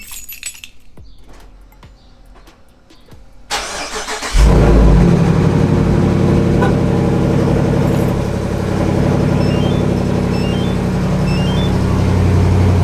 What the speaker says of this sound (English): So I'm gonna do a cold start.